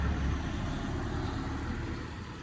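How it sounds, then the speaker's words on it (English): A van passes by on a road, a low broadband rumble of engine and tyres that starts strongest and eases slightly as it moves away, with no voices. "Let's wait for this van to pass."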